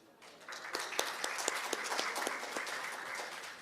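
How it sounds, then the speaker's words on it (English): An audience at the AfricArena West Africa Summit applauds its panelists, a rising spread of claps that swells quickly and holds steady, with a handful of sharper individual claps standing out from the crowd. "Another round of applause for them"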